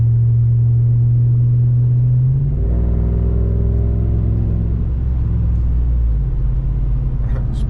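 Straight-piped 4th gen Ram 1500 with a 5.7 Hemi rumbles loudly at a steady idle, then the revs climb into a deeper, louder drone that holds and slowly settles, with no talking.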